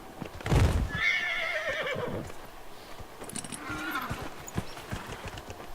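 A horse whinnies loudly in the video game Dragon Age: Inquisition, followed by the clip-clop of hooves and a second, softer neigh, with faint background noise and no talking.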